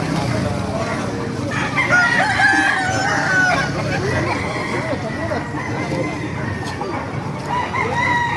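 Roosters crow and hens cluck at a busy outdoor chicken market, the birds mixed under a steady hum of crowd chatter and people talking.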